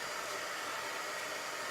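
A hair dryer blows steadily to dry chalk paste on a stenciled bee and honeycomb sign, giving a close, even, broadband whoosh with no pauses for its full length.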